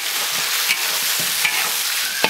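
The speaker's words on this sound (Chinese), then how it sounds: "洋葱、姜蒜，这个泡椒，哦不是泡椒，小米椒给它炒" Onion, ginger, garlic and bird's eye chilies stir-fry in a hot wok with a loud, dense hiss. A few sharp scrapes of the spatula cut through at intervals.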